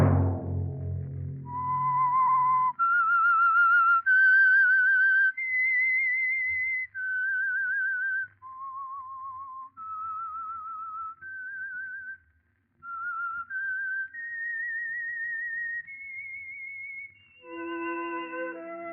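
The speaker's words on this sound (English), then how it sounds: "Let that whistle be your signal for the signal oil program, The Whistler" A lone whistler carries a slow melodic tune of held notes stepping up and down, clear and close; the theme of The Whistler radio program, ending on a brief orchestral chord.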